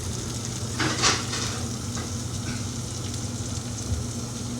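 Fat from beef for carpaccio sizzles steadily in a hot frying pan, a close continuous crackle with a brief louder flare, with no talking over it.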